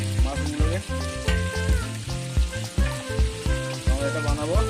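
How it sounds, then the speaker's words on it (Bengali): Mushrooms sizzle and fry in a pan for chilli mushroom, a loud, busy crackle with repeated scraping stirs and clattering strokes of a utensil against the pan, close up and without talk. "তো এটা এখন আমরা ভালো মতো করে ফ্রাই করে নেবো।"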